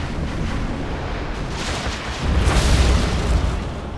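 A cruise missile strike in C&C Generals lands as a loud, sustained explosive rumble, with a heavier boom swelling midway and rolling on to the end.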